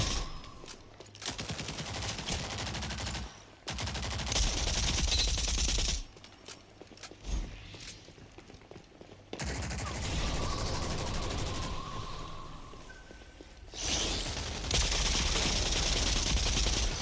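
Automatic gunfire in the online shooter Rogue Company, in loud sustained bursts that start and stop over and over, mixed with game effects.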